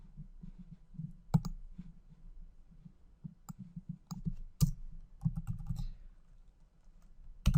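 Typing on a computer keyboard while entering Python code, with irregular clusters of crisp key clicks, quick runs broken by short pauses and a few sharper strikes, heard close and alone.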